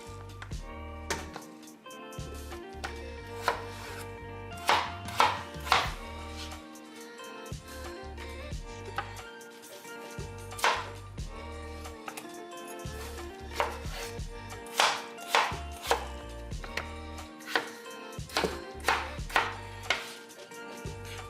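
A knife slices Yukon Gold potatoes on a cutting board in a home kitchen, repeated sharp chopping taps in irregular bursts, close and clear, with quiet kitchen background.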